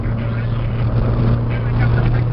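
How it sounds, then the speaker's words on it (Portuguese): Car passing on a road at speed, heard from inside a moving Volkswagen Gol as a loud steady engine and road drone with a low hum, a voice speaking over it. "Passa o carro agora, ó"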